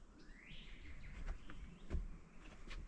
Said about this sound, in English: You hear the birds out there.